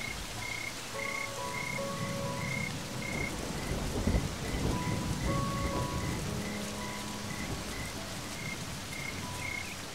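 Steady, heavy rain falls in a continuous wash while frogs croak and call repeatedly through it, with a low thunder rumble around the middle.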